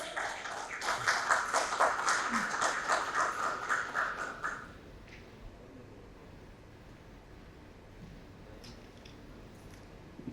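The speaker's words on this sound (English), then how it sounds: "Can we have a huge round of applause?" A conference audience gives a keynote speaker a round of applause, a moderate wash of many hands clapping that stops abruptly after about four seconds, leaving a quiet room with faint rustles.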